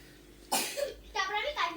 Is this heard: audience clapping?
no